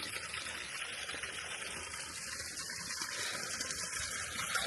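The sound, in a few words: water pouring from a mountain spring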